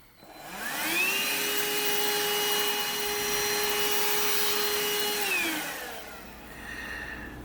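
A power drill bores out and enlarges an existing hole in wood for a model ship, running as one steady, fairly loud whine of about five seconds that starts and stops with clear pitch sweeps.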